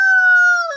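Rooster crowing, a single short, loud, clear tonal call held steady before trailing off, close by.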